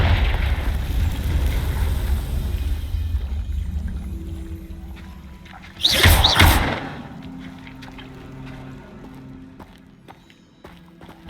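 A Confringo spell explosion in the Hogwarts Legacy game, one loud burst midway that booms out over a fading rumble, followed by quieter ambient game sound.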